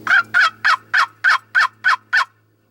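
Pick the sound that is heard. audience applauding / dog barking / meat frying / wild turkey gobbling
wild turkey gobbling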